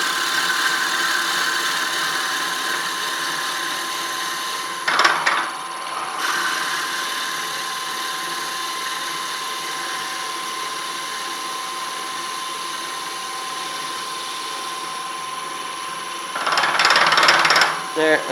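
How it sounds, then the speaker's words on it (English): Wood on a lathe being bored with a 27/64 drill bit held in a Jacobs chuck, a steady grinding hum throughout with two louder, brief bursts of cutting as the bit is pushed in slowly and backed out. "I'm going to just drill this in nice and slow, back it out a little bit"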